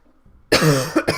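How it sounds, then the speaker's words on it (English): A single sharp, close cough bursts out after a moment of near silence, followed by a short second hack. "I got a cough building, I can feel it."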